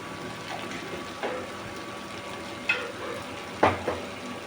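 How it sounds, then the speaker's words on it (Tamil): Water poured into a pan of vegetables sautéing for rava khichdi, setting off a steady close sizzle and fry hiss, with a few sharper stirring or splashing bursts near the end. "இப்போ நம்ம தண்ணியை சேர்த்துக்கலாம்."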